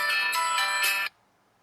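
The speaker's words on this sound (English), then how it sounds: "Oh, there goes the phone again." A telephone ringtone rings loud and close in an auto upholstery shop, a bright repeating electronic tone that plays for about a second and then cuts off into near silence.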